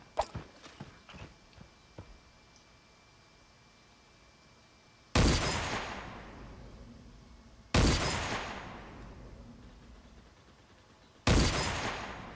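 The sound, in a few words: gunfire in video game Creative Destruction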